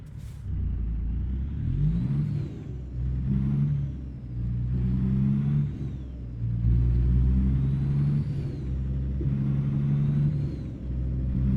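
A truck engine from a new engine pack in the American Truck Simulator video game rumbles deep and loud, revving up and down in repeated waves as it pulls through the gears, with no talk over it.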